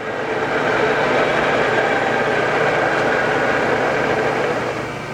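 A 2004 Trak DPMS3 three-axis CNC bed mill spindle spins at 4200 RPM, a steady, continuous machine whir and hum that holds level throughout, then eases off slightly at the end.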